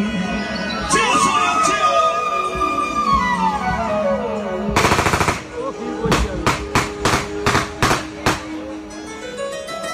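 Celebratory gunfire at an outdoor music program in Matore, Tehsil Kahuta: a loud volley bursts out over music and singing, followed by a string of separate sharp shots in quick succession.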